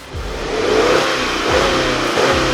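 A Subaru WRX with a CVT revs in park, the engine climbing to 4,000 RPM and holding against the limiter as a loud, steady drone with slight wavering.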